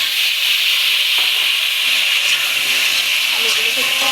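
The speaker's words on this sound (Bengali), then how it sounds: "এবার আমি এই যে আলুগুলো একটু ভেজে নেব।" Potatoes sizzle in hot oil, frying for a Bengali fish curry with munshi potatoes. The hiss is loud, steady and continuous, with faint clinks and a voice in the background.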